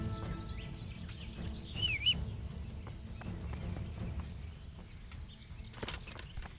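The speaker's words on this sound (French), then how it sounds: "Pourquoi il y a un cheval ici? Ah bah c'est mon cheval." A horse in the video game Kingdom Come Deliverance stands nearby with soft hoof clops and shuffling. Birds chirp around it and there is a brief whinny-like call, all fairly faint and without talk.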